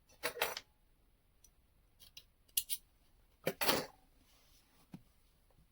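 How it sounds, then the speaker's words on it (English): Scissors snip through yarn during a crochet project: a few short, crisp cutting bursts spaced over several seconds, close and fairly quiet, with no talking. "and then I'm going to cut the yarn."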